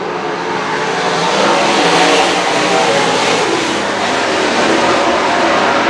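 A pack of 2017 sprint cars roars around a race track, a loud, continuous engine drone that swells and holds steady without pause.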